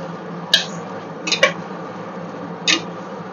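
Spatula clacks against a pan while food is stirred and sautéed in a home kitchen: three short scraping, tapping strokes spaced over a few seconds, close and fairly loud over a low steady background hiss.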